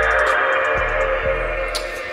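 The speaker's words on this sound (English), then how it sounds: "That is the sound of a working PS2" A steady mechanical whir and electronic hum of a PlayStation 2 console running, with a couple of faint low clicks, no talking.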